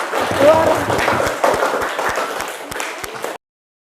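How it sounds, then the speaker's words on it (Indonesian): Classmates in a school classroom clap together after a student's presentation, a fairly loud burst of scattered hand claps lasting a few seconds, with faint voices mixed in before it cuts off. "silakan tepuk tangan teman-teman ya"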